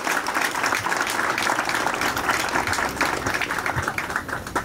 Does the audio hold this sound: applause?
yes